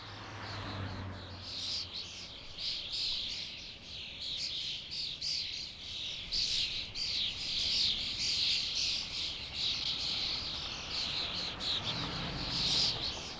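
A large flock of starlings keeps up a dense, continuous chatter of shrill chirps and squeaks while roosting in cypress and pine trees in a cemetery in Rome. The calls stay at a moderate distance throughout.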